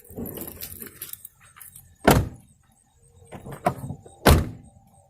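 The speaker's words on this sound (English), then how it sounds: "I think I'll close the second door so I can use that as a better gauge." Rear door of a camper van being closed: a few softer clunks and rattles, then two heavy, close thuds of the door shutting about two seconds apart, with quiet pauses between.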